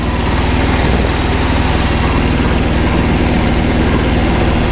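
Kubota homesteading tractor engine running steadily, a loud, continuous low diesel drone with a throbbing rhythm and no breaks.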